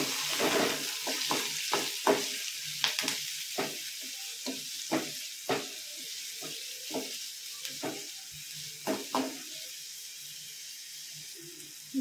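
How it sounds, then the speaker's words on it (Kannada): Green chillies and finely chopped onion frying in a pan, a steady sizzle broken by repeated scraping stirs of a spatula, close and moderately loud, with no voices. "1-2 ಹಸಿಮೆಣಸಿನ್ಕಾಯಿ, ಒಂದು ಸಣ್ಣಗೆ ಹೆಚ್ಚಿರೋಂಥ ಈರುಳ್ಳಿ, ಇದನ್ನು ಫುಲ್ಲು ರೋಸ್ಟ್ ಮಾಡ್ಕೋಬೇಕು."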